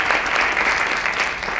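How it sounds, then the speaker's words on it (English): A hall audience at a Chicago Public Schools champions celebration applauds city officials, a dense, even burst of clapping throughout the short moment. "Let's give them an applause, everybody"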